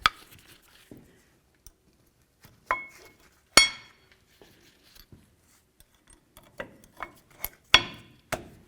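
Metal brake pads for a 1999–2007 Ford F-250 Super Duty front brake are handled and fitted, giving sparse, sharp metallic clinks and clicks separated by quiet gaps, close and fairly faint.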